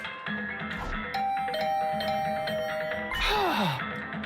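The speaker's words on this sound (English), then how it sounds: "I was brought back to the land of the living by the unrelenting ringing of my doorbell." A doorbell in the video game The Hundred Line: Last Defense Academy rings with repeated steady electronic tones over a droning background, followed by a falling groan-like sound at the end.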